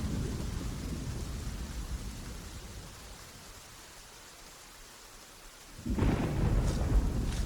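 Rainstorm with a steady hiss of rain, a rumble of thunder at the start and another louder thunder burst near the end; no talking.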